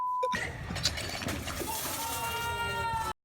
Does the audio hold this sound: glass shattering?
yes